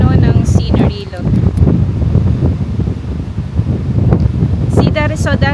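Strong coastal wind at a lighthouse on Taiwan's north coast roars and buffets the microphone continuously, loud and close, while a person talks over it.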